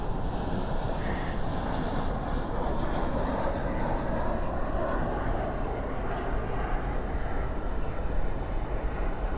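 An airliner rolls out after touchdown with spoilers deployed and thrust reversers engaged at night, a steady broadband roar that stays loud and continuous throughout, with no speech.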